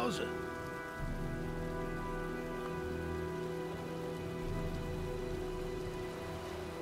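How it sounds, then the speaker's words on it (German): Rain storm in the video game Heavy Rain: steady patter of rain on surfaces over a low hum and sustained tonal music, with a brief voice at the start. "Tja, sieht nach einem Sturm aus."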